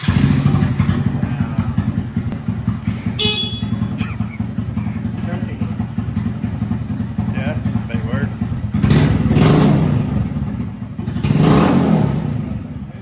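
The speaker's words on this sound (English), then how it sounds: "Look at that fast bike over there." Motorcycle riding past outdoors, its engine droning steadily with two louder surges as it goes by, while people talk over it.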